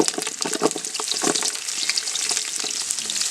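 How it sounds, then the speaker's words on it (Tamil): Small onions dropped into hot oil tempered with fennel and cumin for a village-style duck curry, a bright crackling sizzle with busy popping bursts early on that settles into an even, close hiss. "சின்ன வெங்காயம் போடுறான்"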